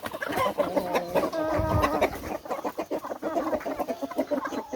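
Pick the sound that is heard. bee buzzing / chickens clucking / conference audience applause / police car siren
chickens clucking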